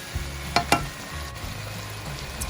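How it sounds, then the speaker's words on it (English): Chicken liver adobo with brown sugar and beef stock is stirred in a pan, two sharp utensil knocks against the pan rising over a low, steady sizzle. "So you have to stir it so the flavor gets through to the liver."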